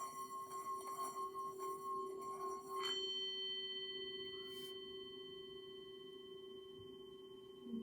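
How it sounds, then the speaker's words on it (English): A meditation bell rings with a clear, sustained metallic tone that slowly fades in a quiet room. "I invite you to wait for the sound of the bell"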